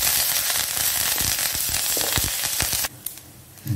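Spices for Chettinad potato curry frying in hot oil, a loud dense crackling sizzle with popping bursts for nearly three seconds, then dropping abruptly to a quieter hiss with scattered pops.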